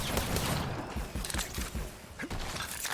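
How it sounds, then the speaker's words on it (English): Smart bullets fire in Borderlands 3 in a dense, rapid fusillade, a continuous loud crackle of shots and impacts with mechanical clatter, without a pause. "we're gonna get you with the smart bullets"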